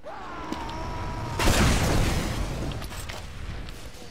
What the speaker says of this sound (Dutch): Dat was een explosie.